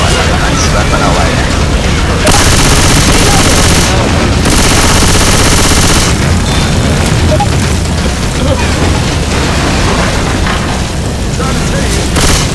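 Dense gunfire and booms in the multiplayer zombie shooter Left 4 Dead 2, with loud continuous shooting and bursts across the whole stretch, heavy and close throughout.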